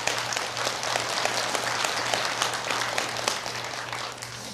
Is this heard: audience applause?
yes